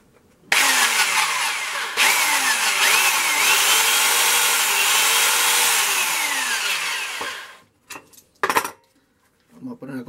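A belt sander whines loudly and steadily for about seven seconds, its pitch wavering as it works, then cuts off, followed by a few short knocks.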